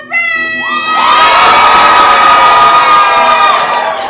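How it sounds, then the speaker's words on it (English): Theatre audience at a Taming of the Shrew performance lets out a loud, sustained cheer and whooping like Elizabethan groundlings, swelling after a second and holding steady before easing off. "Let me through your best groundling cheer."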